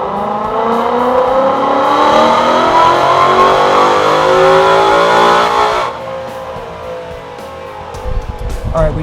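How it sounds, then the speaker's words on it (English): A car engine on a dyno with nitrous off, revving hard in a loud sustained pull with steadily climbing pitch for about six seconds, then dropping off to a lower idle. "I'm going to do a dyno pull with the nitrous turned off to make sure that my timing is doing what it's supposed to do"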